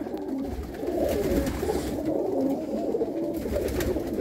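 Pigeons coo in low, soft, repeated rolling calls in a home loft, several birds overlapping continuously at close range.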